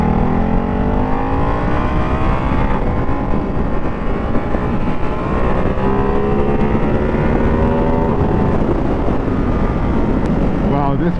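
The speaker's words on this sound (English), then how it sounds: "Wow, this bike does feel incredible to ride." A Ducati Hypermotard 698 Mono single-cylinder motorcycle rides along a road, its engine loud and close with rising and falling revs as it picks up speed into a bend, wind rushing over the microphone throughout.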